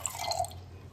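Ganges water poured as a Shivaratri worship offering makes a brief, close trickle and splash of liquid lasting under a second.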